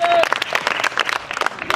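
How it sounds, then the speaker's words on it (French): A group of children claps briefly at a school event for World Handwashing Day, a short burst of scattered claps mixed with voices. "Ok, on applaudit."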